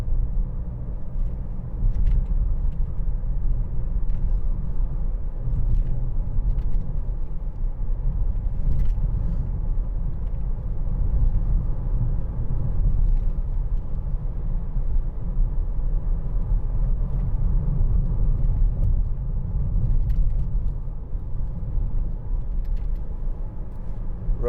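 Interior of a 2013 Mercedes-Benz C200 C-Class driving on a bumpy road: steady low road rumble and engine hum with scattered light knocks and rattles from the uneven surface, no talking.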